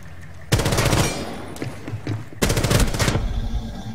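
Two bursts of rapid automatic gunfire in the Rainbow Six tactical shooter game, loud and close, with a few scattered single shots between them.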